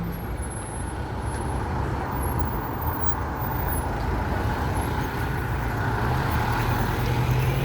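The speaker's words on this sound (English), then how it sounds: "There's a lot of traffic here." Steady road traffic with passing cars and buses, a continuous low rumble that stays fairly loud throughout, with no talking.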